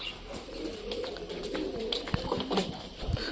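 Soft, low coos from caged pet pigeons repeat over a steady background hiss, with a few faint rustles and taps.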